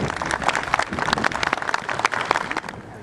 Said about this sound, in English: And let's give these folks a round of applause.